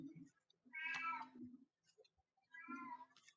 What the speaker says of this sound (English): Cat loud.